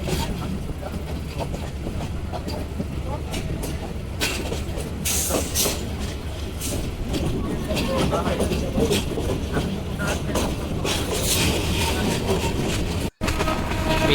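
Steady loud rumble and clatter of the Mohanagar Express, a metre-gauge passenger train heading toward Dhaka, running continuously with rattling wheel noise and a voice speaking over it, broken by one brief dropout near the end.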